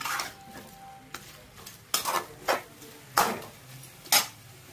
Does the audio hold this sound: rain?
no